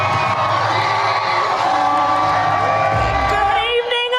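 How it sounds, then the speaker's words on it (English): A large rally crowd roars and cheers as Kamala Harris takes the stage, a dense sustained wall of shouting and whooping with a few high yells standing out. "Here's the crowd's response when Kamala took the stage."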